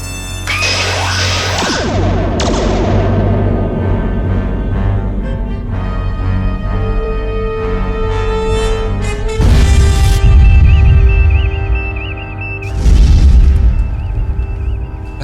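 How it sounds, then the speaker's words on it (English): Star Trek photon torpedoes fire in a spread, several loud booming bursts and explosion swells with rumbling low end and ringing tones over about fifteen seconds, no talking. "Photon torpedoes, broadest possible spread."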